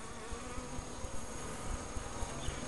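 Honey bees buzz continuously while being put into a top bar hive, a dense, steady droning hum from many insects close by, with faint handling taps underneath and no talk.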